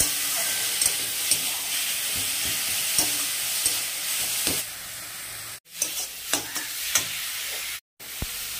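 Papaya being stirred in hot oil in a pan for chutney, a loud steady sizzle and hiss with repeated spoon scrapes, briefly cut by two short silent gaps.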